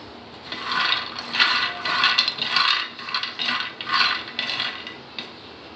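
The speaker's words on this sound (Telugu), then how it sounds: "వీటిని ఫస్ట్ డ్రై రోస్ట్ చేసుకుందాం." Peanuts dry roasting in a pan rattle and scrape in repeated rhythmic bursts as they are tossed or stirred. The sound is close and moderately loud, with no talking.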